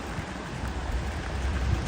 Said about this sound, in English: my left leg is wet as hell because it is super rainy